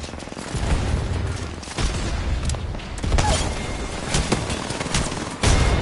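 A grenade blast and a steady rattle of gunfire in Apex Legends, continuous and loud, with repeated shots and booming impacts rolling throughout and no voices.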